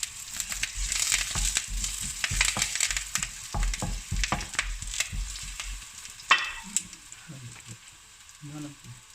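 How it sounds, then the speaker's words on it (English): Garlic and cumin seeds frying in oil in a pan, a close crackling sizzle with busy stirring and scraping that thins out partway through, leaving sparse clinks and light pops. "Now I added the garlic and the cumin seeds. Just wait until it's fried."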